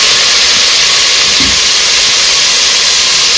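Ingredients for coconut milk rice fry in a hot pan, making a loud, continuous sizzling hiss close up, with no talking.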